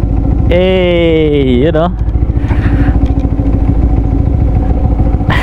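Yamaha R15 V3 150cc motorcycle fitted with a Yoshimura exhaust pipe, a close, throbbing engine note with a rising revving tone early on, then steady rapid pulsing; someone speaks briefly over it.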